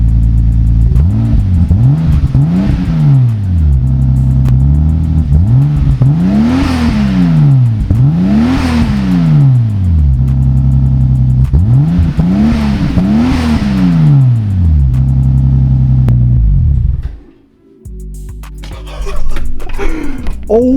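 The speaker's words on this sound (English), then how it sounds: "Let me rev it out a little bit." A Toyota Supra with a 2JZ engine revs hard and loudly up close, repeated sweeping climbs and drops in pitch, then cuts off briefly before idling again near the end.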